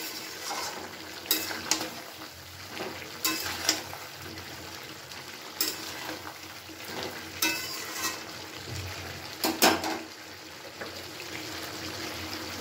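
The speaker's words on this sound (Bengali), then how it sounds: "দিয়ে আবার খুব ভালো করে নাড়াচাড়া করে মিশিয়ে নিচ্ছি।" Spices, including Kashmiri chilli powder, stirred into a mixed vegetable curry frying in a pan, giving a steady sizzle broken by spoon scrapes and clatters, close and moderately loud, with no talking.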